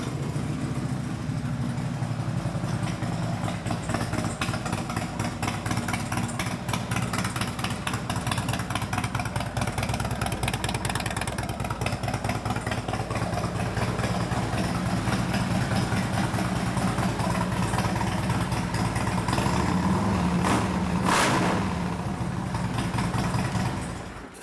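A Harley-Davidson Street Glide Special FLHXS with a race tune idles through aftermarket exhaust pipes, a steady, close, loping rumble running throughout with no speech.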